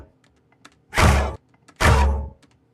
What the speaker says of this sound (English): So this is the hive shooting.